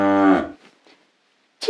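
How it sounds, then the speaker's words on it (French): A cow gives one loud, deep, drawn-out moo up close, fading into quiet, followed by a brief sharp sound at the end. "C'est la vache."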